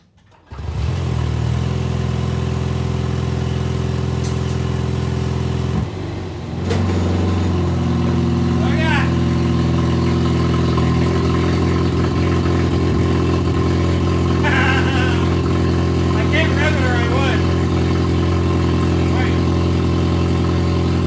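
Toyota Prius drag car with no exhaust starting for the first time, its engine catching and settling into a loud, steady, rough idle that runs close by throughout, with people talking over it.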